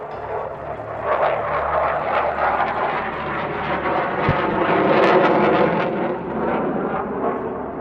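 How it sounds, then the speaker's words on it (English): An MV-22 Osprey tiltrotor approaches at an air show demonstration at Iwakuni, its loud, steady rotor and engine roar swelling and holding throughout, close and dominant with no talk. "here comes the Osprey"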